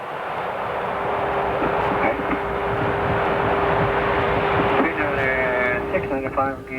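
A DC9 jet airliner's engines roar steadily with a thin whine while it taxis to the gate, then the tone begins to wind down near the end, with voices talking over it.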